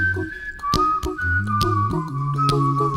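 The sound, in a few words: whistling in a song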